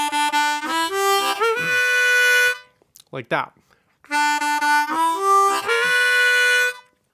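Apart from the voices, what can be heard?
harmonica double stop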